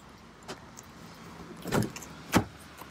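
A Mercedes-Benz SUV's power tailgate closes at the press of a button, with a faint click, a brief motor whir, then a solid thunk as it latches, nearby and fairly quiet.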